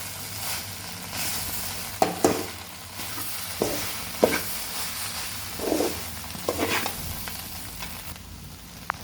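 Kothu parotta frying in a pan while being stirred, a soft continuous sizzle broken by several sharp metallic scrapes and clanks of the spatula at irregular intervals; no talking.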